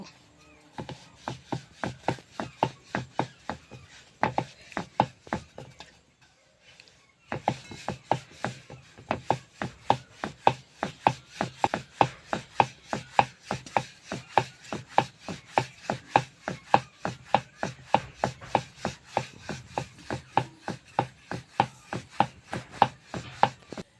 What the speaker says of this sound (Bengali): এবারে আমি চাকি নিয়েছি আটা দিয়ে রুটির মতো করে বেলে নেব